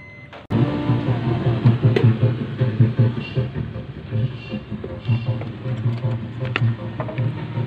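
A car engine cranks and catches after its drained battery has been charged, with a sudden onset, then settles into a steady, moderately loud idle rumble that fluctuates slightly.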